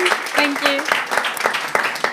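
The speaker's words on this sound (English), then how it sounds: "So please give it a clap." Audience applause after a startup winner is announced at a Falling Walls science and entrepreneurship event, sparse, uneven claps rising under a speaking voice.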